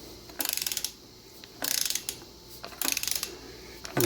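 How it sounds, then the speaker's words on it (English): Ratchet torque wrench tightening bolts on the front cover of a 7.3 engine during a rebuild, heard as three quick bursts of close metallic clicking separated by short pauses. "And we'll torque it in."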